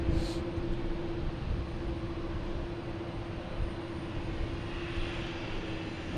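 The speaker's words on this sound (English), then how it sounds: "All right, we got a plane taking off." Passenger jet taking off at Boston Logan Airport, a steady broad engine roar with a sustained tonal whine, heard from a distance and holding constant throughout without voices.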